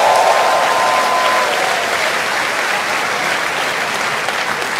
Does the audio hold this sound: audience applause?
yes